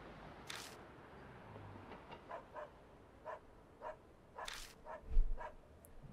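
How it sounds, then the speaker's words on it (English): A dog in the horror video game Spirit Hunter: NG barks in the background: a dozen or so sharp, fairly faint yaps spaced irregularly over an ambient game soundscape, with one louder thump near the end. "there's a dog in the background. The sound design is amazing."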